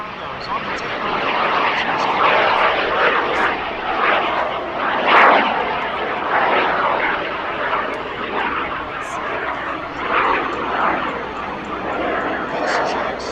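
A SubSonex SX2 experimental personal mini jet flies past at an air show, a loud steady jet roar with a broad wash of engine noise and a slight swell midway.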